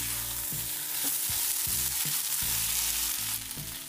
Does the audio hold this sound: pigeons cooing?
no